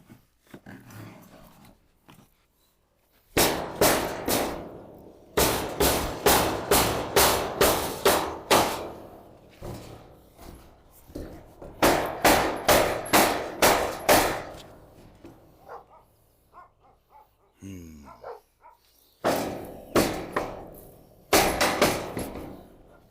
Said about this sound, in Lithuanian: Mūsų didelis plaktukas.